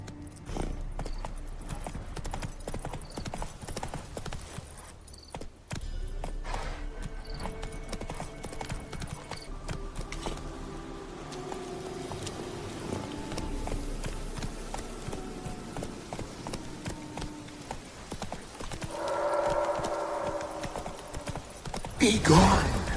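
Roach, a horse in The Witcher 3, trots with steady clip-clopping hooves at close range, a brief neigh near the end, with game dialogue voices over parts of it.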